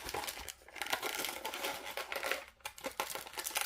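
A trading card pack, taped onto toy packaging, is torn and crinkled open up close, with continuous rustling and crumpling bursts and a few short pauses, no talking.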